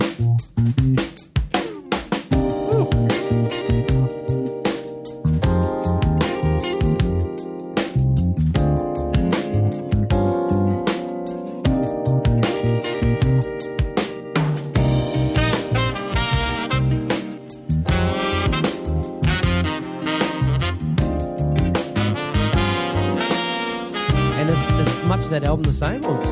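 Studio recording of a full band song, with crisp snare backbeats and a tom fill running through a dense, loud mix of instruments.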